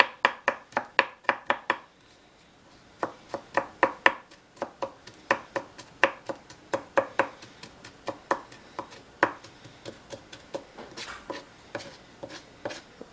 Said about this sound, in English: I'm just going to shave off some ginger root